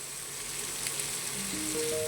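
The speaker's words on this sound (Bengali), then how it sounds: "পেঁয়াজটা একটু ভেজে নেবো আমি" Onion frying in oil in a pan for a fish-head curry, giving a steady, close crackling sizzle that stays even throughout.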